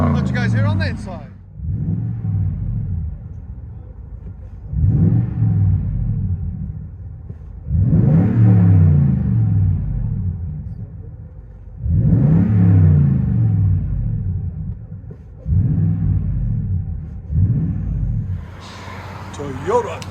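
Inside the cab of a 2015 Toyota Tundra 5.7L V8 with a Carven R-Series exhaust, the engine is revved about six times, each deep rumbling burst swelling and fading back to idle.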